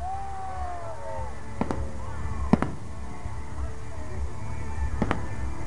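Distant fireworks from a show pop in a few sharp, separated bangs over a steady outdoor background hum, with faint whistling tones drifting through.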